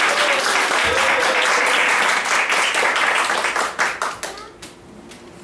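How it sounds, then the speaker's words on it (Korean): A church congregation at a Sunday worship service claps in welcome, a loud, dense burst of applause that holds steady and then tapers off raggedly toward the end. "함께 예배드리도록 박수로 환영하겠습니다"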